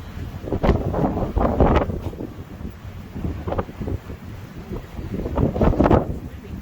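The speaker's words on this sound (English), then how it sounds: "Yeah, it's really windy." Strong wind in Vienna, Austria, buffeting the microphone in low, rumbling gusts that rise and fall, loudest in a few heavy surges.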